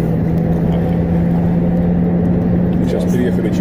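A car crosses a bridge over the Dnieper river, its steady engine hum and road rumble loud and constant throughout, with no breaks or passing traffic standing out.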